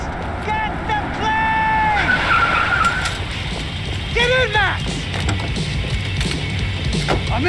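Tires squeal in two rising and falling screeches as a car skids during a chase in the PC game Max Payne 3, with loud shouting voices and engine noise over the top.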